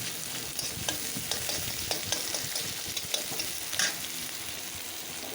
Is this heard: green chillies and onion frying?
yes